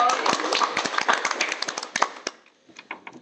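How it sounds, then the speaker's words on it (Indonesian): An audience claps in a dense burst that thins into a few scattered claps after about two seconds, then goes quiet with a couple of isolated taps. "Tepuk tangan lagi dong."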